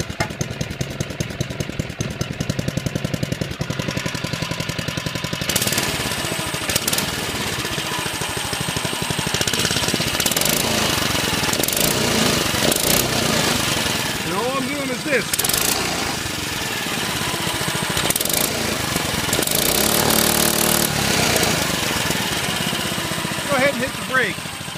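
A DB30 with a repaired throttle return revs in repeated rises and falls as the throttle is twisted, a rough small-engine note swelling and dropping over a running idle, fairly close.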